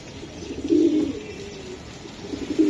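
Low, throaty coos of racing pigeons swell and fade in a couple of soft bursts over a steady background hum, fairly close.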